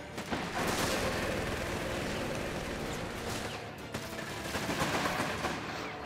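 Dense, continuous battlefield gunfire from the introductory mission of the strategy game Company of Heroes 3, with overlapping rifle and machine-gun fire rattling at a steady, loud level almost without pause.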